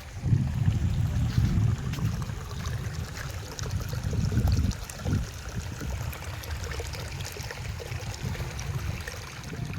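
Excess water runs down from one field terrace to the next, a continuous close gurgling rush that is fuller at first and then settles into a softer steady trickle.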